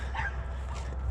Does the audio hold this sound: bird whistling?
no